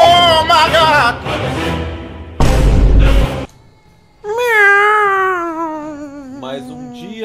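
A cat meows loudly and close in several drawn-out, wavering cries separated by short gaps, with a burst of rough noise partway through.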